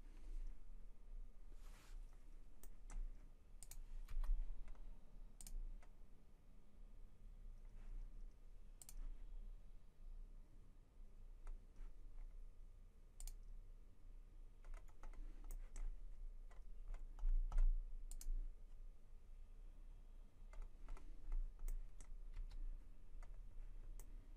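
Faint, scattered keyboard key presses and clicks during computer modelling work in Fusion 360, coming in irregular bursts of light taps over a quiet background, with no talking.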